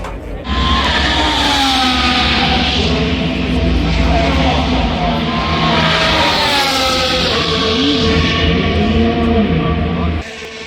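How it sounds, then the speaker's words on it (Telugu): Formula 1 cars run through a practice session at the Canadian Grand Prix, a loud, continuous high-pitched engine whine whose pitch rises and falls as cars pass, lasting about ten seconds before dropping off. "కార్లు వస్తున్నాయి చూడండి."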